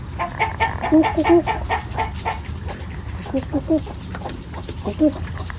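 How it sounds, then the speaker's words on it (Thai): A chicken clucks in short repeated bursts close by, with other fowl sounds and a person talking in Thai over a noisy background, in Oregon. "ไก่ตัวนี้ดื้อครับ อย่าเข้ามาครับ"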